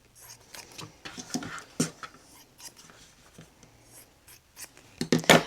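Scissors snip through handmade vintage quilt fabric in a few sharp, close cuts, scattered with softer rustling and handling sounds, ending in a louder flurry of snips.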